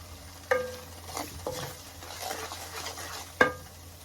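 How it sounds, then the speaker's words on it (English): A spoon stirring seasoning through a pot of Somali rice, giving faint scraping and clinking with a low sizzle beneath and a couple of sharper knocks against the pot. "Stir everything thoroughly."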